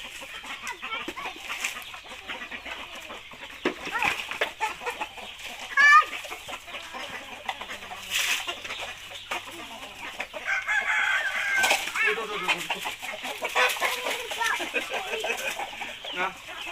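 Farmyard chickens clucking with a rooster crowing during evening feeding with corn, scattered bird calls and occasional louder bursts, someone talking intermittently nearby.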